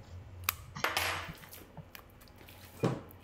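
Thin slices of beef being mixed into a prepared marinade sauce, with a few sharp utensil clicks against a dish and soft wet shuffling; brief and close, no talking.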